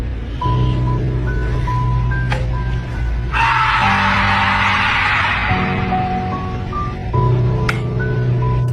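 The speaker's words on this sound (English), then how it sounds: "A blood-curdling, inhuman scream rising from the darkness." A harsh, strained scream rises mid-clip over a low droning hum, sustained for a few seconds with eerie tonal sounds around it, no talking.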